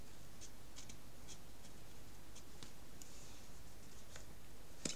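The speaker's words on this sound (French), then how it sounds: "je vais découper un petit bout de tissu, petit bout de cotonnade" Scissors cut a small piece of cotton fabric with a quiet, irregular series of crisp little snips, close and faint against a still background.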